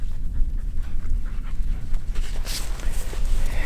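Siberian huskies pant steadily and close by in cold May snow on a mountain during dog sledding, a continuous rhythmic breathing with no other sounds.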